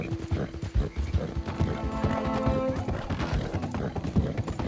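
Rhythmic clip-clop of horse hooves at a steady gait while riding in Red Dead Redemption Online, close and prominent, with a brief whinny and a voice speaking faintly over it.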